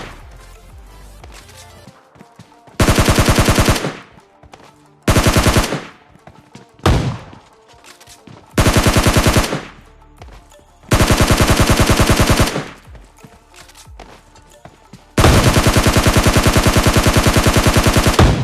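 Gunfire in the mobile shooter game PUBG Mobile Lite comes in loud, sharp bursts of rapid automatic shots separated by brief pauses, the longest sustained burst at the end.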